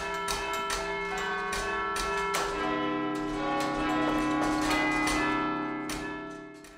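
Church bells peal steadily from a tower, overlapping strikes ringing out with long sustained tones that fill the air.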